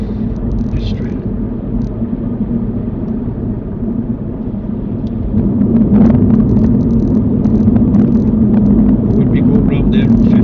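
Car tyres rolling over rumble strips on a motorway during a driving lesson, a steady loud droning rumble beneath road noise that swells in intensity partway through, with people talking over it.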